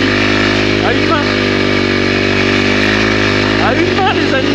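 Engine drone of a 2022 Honda CRF 300L motorcycle being ridden, a steady loud hum holding constant pitch, with someone talking over it in French.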